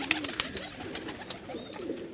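Breeder pigeons coo softly in a loft setup in Pakistan, a run of low throaty coos close by over a faint background, with a few brief sharp clicks and rustles from the birds.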